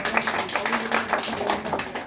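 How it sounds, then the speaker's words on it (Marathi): A child's hands clap in a quick run of light, uneven claps, close by, with faint voices in the background. "टाळ्या वाजव."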